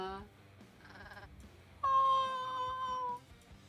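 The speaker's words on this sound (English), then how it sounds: "did you hear that little purr from Llama?" A pet cat in The Sims 4 gives a single drawn-out, purring trill. It rises clearly over quiet background game music after a stretch of softer sounds.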